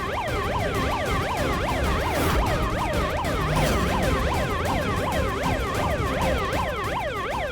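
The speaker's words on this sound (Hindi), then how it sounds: "पुलिस सायरन की आवाज सुनकर ये गुंडे जरूर इधर उधर भागेंगे" A child's bicycle horn plays a police siren, a loud continuous rapid up-and-down electronic wail that runs steadily with no pause.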